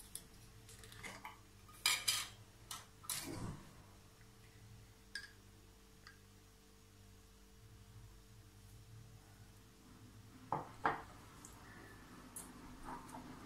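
Spoon scooping organic coconut oil into a bowl for a homemade hair mask, a few quiet clinks and scrapes of metal against the dish, sparse and faint with near-silence between.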